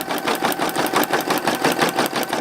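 A Brother PE770 embroidery machine stitching an applique patch on tear-away stabilizer, with a steady rapid mechanical chatter of needle strokes repeating in an even rhythm, close and alone.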